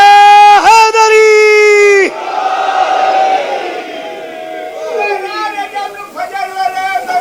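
At a Shia majlis gathering, a large crowd answers a leader's call with the slogan Naara-e-Haidari: loud, sustained massed chanting follows a long amplified sung cry, then fades under further drawn-out vocal calls.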